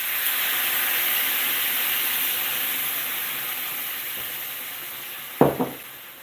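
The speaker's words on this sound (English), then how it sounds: "We're going to scorch this just a little bit." Meat scorching in a hot pan for pho broth, a steady bright sizzling hiss close by, ending with a couple of sharp clanks from the pan or utensil.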